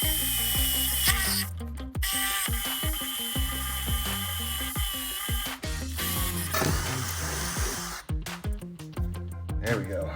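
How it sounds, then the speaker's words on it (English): A power drill bores through steel in rough, stop-start bursts, its motor whining and grinding up close with clanks and pauses between runs. "I'm trying to drill through steel."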